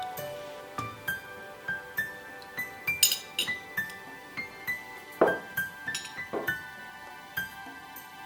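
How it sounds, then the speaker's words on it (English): Gold flatware clinks repeatedly against plates and glassware while a Christmas table is set, a series of bright, close metallic chinks and pings at irregular intervals, with no voices. "I'm going to be using my gold flatware today."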